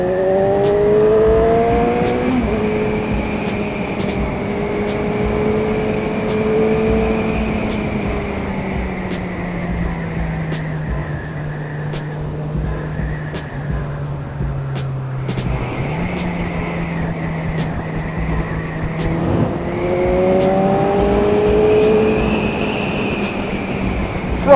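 Kawasaki Z1000 motorcycle engine heard while riding at about 70 mph, a steady loud drone with rising and falling pitch as the throttle changes, mixed with heavy wind rush throughout.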